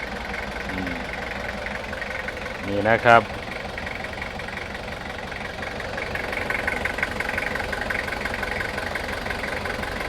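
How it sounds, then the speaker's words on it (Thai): The 5L diesel engine of a 2004 Toyota Hiace van idles with a steady low clatter and gets one brief rev, while someone talks over it. "เบิ้งความดิ่งของเครื่องยนต์กับสตาร์ทแล้วนะครับนี่"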